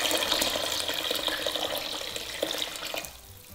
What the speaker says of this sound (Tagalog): ngayon yung maglalagay lang ako ng tubig